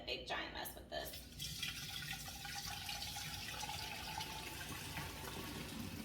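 Herbal sun tea poured through a kombucha strainer into a roughly 1.5-gallon jug, a steady close liquid pour and splash with faint drips, running continuously under the scene.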